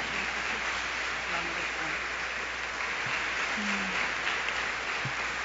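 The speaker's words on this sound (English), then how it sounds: "Come on and receive with a big, big round of applause and a ton of love, Mother Tynetta Muhammad." Audience applause greeting Mother Tynetta Muhammad at a Nation of Islam gathering, a steady wash of clapping from a large hall with faint voices and stray calls mixed in.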